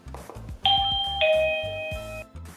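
A two-tone ding-dong chime from the EUKI J9 Wi-Fi video doorbell rings out clearly, the second tone sounding about half a second after the first and ringing on for about a second, while low rhythmic music thumps quietly beneath it.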